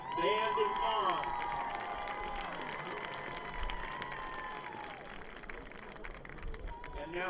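A crowd at a high school football game in Greeley applauds and cheers for the seniors, sustained clapping rolling through the stands while an announcer's amplified voice carries over it.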